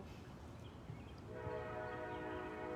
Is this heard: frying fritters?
no